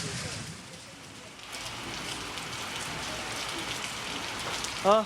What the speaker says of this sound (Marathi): आज दमदार पावसानं हजेरी लावलेली आहे